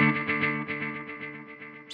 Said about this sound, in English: So we just hear what drum echo sounds like by itself.